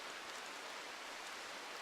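Steady rain hisses evenly and softly in the Rimworld video game, a constant broadband wash with no other sounds.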